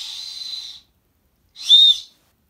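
A survival whistle from a spade kit gives two sharp, shrill blasts, the first steady and longer, the second shorter and louder, with silence between them and no talking.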